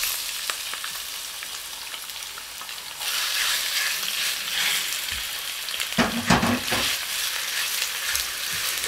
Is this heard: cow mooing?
no